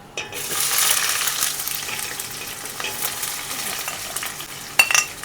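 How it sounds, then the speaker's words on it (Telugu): Onions sizzle and crackle in hot tempering oil with spices, a steady frying hiss with occasional scraping and stirring clinks from a utensil in the pan. "పోపులు వేసిన తర్వాత ఉల్లిపాయలు వేసుకోవాలి"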